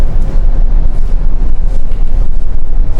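Loud, constant 30-knot wind roars and buffets against the microphone aboard a ship on the Atlantic Ocean in bad weather, with a deep rumble underneath and no voices.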